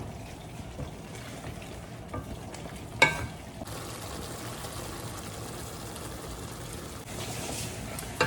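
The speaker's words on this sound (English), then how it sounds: "So we have some hot water boiling here" A pot of hot water boils for a Bengali dish, giving a continuous soft bubbling hiss with a couple of sharper clinks and splashes, close and fairly quiet.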